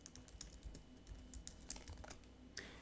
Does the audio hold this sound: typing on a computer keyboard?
yes